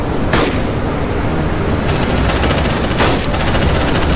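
Sustained squad gunfire rattles in the video game Aliens: Dark Descent, a dense, loud barrage of automatic weapons with heavier booms and no pauses.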